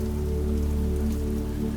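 Steady rain pattering against a window, a dense, even wash of drops that stays constant and fairly loud throughout, with no voices.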